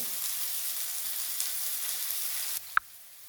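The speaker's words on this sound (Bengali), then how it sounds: "পেঁয়াজটা আমার বেশ ভাজা হয়ে গেছে" Steady, close sizzling of onions frying in hot oil, ending with a soft clink of a utensil.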